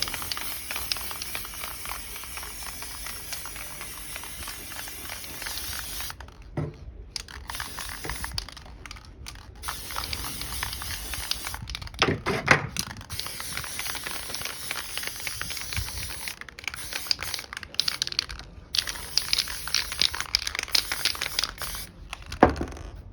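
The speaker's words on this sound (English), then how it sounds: "We're going to spray it again." Old lamps get sprayed with chrome paint, heard as repeated bursts of hissing aerosol spray close by, broken by short silent pauses between passes.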